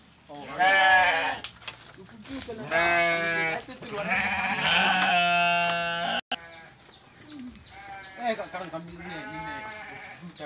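Goats bleat repeatedly and loudly close by, their wavering calls overlapping in bursts, while people talk around them.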